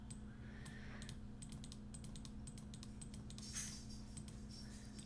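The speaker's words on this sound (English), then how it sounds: "Shuffle my deck a bunch." A deck of playing cards is shuffled repeatedly during a Turf War tabletop miniatures match, giving rapid, crisp flurries of papery clicks close by, with no talking.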